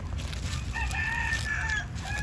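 A loose rooster from a neighbour's coop crows once in a long drawn-out call at moderate distance over steady low outdoor rumble.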